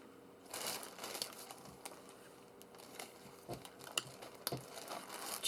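A plastic bag being handled beside a journal, quiet close crinkling and rustling with scattered sharp crackles and small taps over several seconds.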